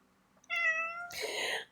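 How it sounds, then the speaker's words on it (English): Lulu the cat gives a single drawn-out meow, clear and fairly close, rising into a louder, breathier second half before fading. "And that is my cat, Lulu."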